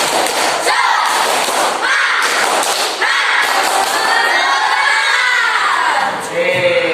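Classroom group spirit clap: loud, close bursts of synchronized clapping with shouting voices, repeated in quick succession, the crowd noise staying busy throughout.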